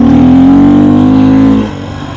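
A Beta 500 RRS dirt bike engine drones loud and close at a steady pitch, then drops off abruptly to a lower idle after about a second and a half.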